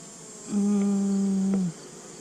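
A honey bee buzzes close by at an open hive in one steady drone lasting about a second. The surrounding air is quiet.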